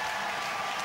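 A cricket crowd in Sharjah applauds Sachin Tendulkar's century, a dense, steady wash of distant clapping and cheering filling the stadium without a break.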